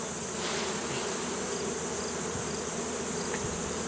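Honeybees are being brushed off a hive frame, giving a dense, steady buzzing swarm drone at close range with occasional louder individual bees passing, no voices.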